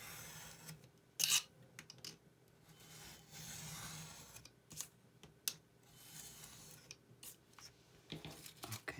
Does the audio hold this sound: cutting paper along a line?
yes